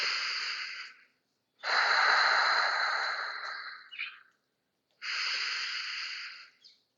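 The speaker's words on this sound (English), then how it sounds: "Take 3 full breaths." Three long, deep breaths during a yoga flow, each a broad airy rush lasting one to two seconds and separated by short silences, close and fairly loud with no talking.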